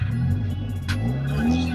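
An Acura RSX accelerating at night, its engine note rising steadily and loud from inside the car, with a continuous low drone and no talking.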